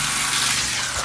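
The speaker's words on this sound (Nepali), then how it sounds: "पानी भर्न आएको छु पानी भर्नुपर्ने हुन्छ" A tap runs steadily while water is being filled, giving a continuous close rushing gush with no break and no voices.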